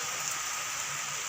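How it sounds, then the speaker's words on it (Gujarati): Rain beginning to fall outdoors, a steady hiss of drops on surfaces filling the brief stretch evenly, moderately loud and close, with no voices. "જો અને વરસાદ ચાલુ થઈ ગયો."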